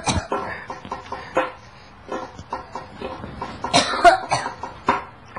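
Repeated short coughs, several in a row at irregular intervals, fairly close and moderately loud, with scattered quiet noises between them and no clear talking.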